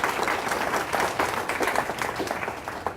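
Audience applause in an indoor gathering, a steady patter of many hands clapping that stays fairly even for about three seconds, with no speech over it.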